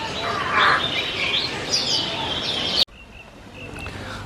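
Myna birds at a zoo calling and chirping close by in a busy, squeaky flurry, cutting off abruptly partway through, with quieter chirps after.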